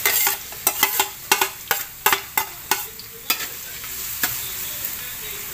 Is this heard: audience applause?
no